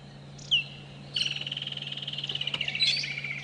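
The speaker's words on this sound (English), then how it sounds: "Now that's a beautiful call, that bird" A bird on an early-morning safari drive at Djuma and Arathusa gives a brief whistle, then a long rapid trilling call, loud and near over a faint low engine hum.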